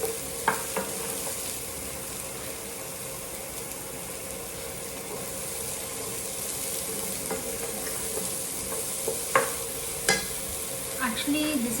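Chopped onions fry and sizzle in a pan for Indian-style Maggi noodles, a steady, close hiss throughout with occasional stirring clinks and scrapes and no talk.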